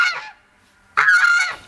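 Farmyard geese kept in a backyard poultry pen give two loud, close, nasal honks separated by a short silence.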